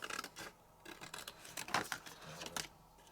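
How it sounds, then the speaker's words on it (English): Scissors snip through paper for a junk journal tag in a quick series of soft, close cuts and rustles, quiet and unaccompanied by talk. "I'm just going to cut this out."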